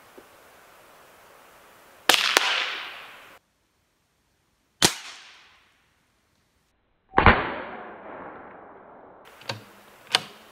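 Several sharp, loud reports from a .22LR rifle firing CCI subsonic 40-grain hollow-point ammunition, each a crisp crack with a short decaying tail, spaced a few seconds apart, with a couple of smaller impacts near the end.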